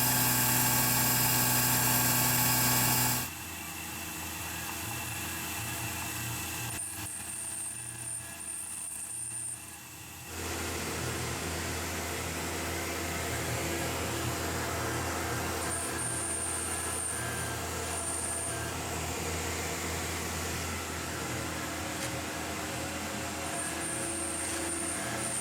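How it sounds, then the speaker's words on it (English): A machine runs a corner rounder on a production run of knife handles, a steady loud mechanical drone with low rumble and faint high whine throughout, after a brief louder burst at the start, with no talking. "Right now it's doing a corner rounder."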